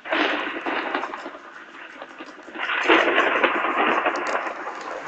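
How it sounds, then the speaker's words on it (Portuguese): Minecraft thunderstorm with steady rain, a dense continuous hiss that swells with rolling rumbles, loud and sustained throughout. "Tá chovendo?"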